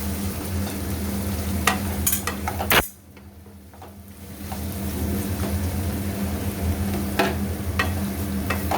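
Chickpeas and sago pearls being stirred in a pan, with scraping utensil strokes and clinks over a steady sizzle, broken by a brief near-silent pause before the frying and stirring resume.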